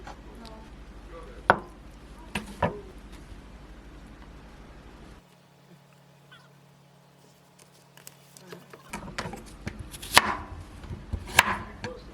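A knife chops tofu into large pieces on a cutting board for a tofu and cucumber rice bowl, giving a few distinct close knocks over a steady background hiss, with a quiet pause partway through.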